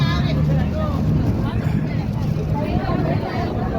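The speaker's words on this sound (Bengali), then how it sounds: "লঞ্চ চলছে, আমরা লঞ্চে বসে আছি।" A crowded passenger launch under way, its engine a steady low drone with water wash, while people aboard talk and murmur nearby.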